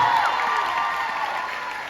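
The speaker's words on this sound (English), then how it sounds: "Please clap louder" Applause from an audience at an influencer marketing event, a dense patter of clapping that holds steady and slowly tapers over about two seconds, with a faint crowd murmur behind it.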